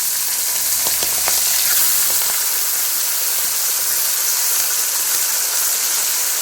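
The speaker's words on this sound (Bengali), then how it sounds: "এখন আমি মাছগুলোকে হালকা ফ্রাই করে নেব।" Pomfret pieces are lightly fried in a pan with oil, bay leaves and black cumin, giving a continuous close hiss and sizzle with a few faint crackles early on, steady and loud, with no voices.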